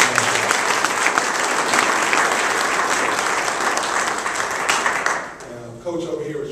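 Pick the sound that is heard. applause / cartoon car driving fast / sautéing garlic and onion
applause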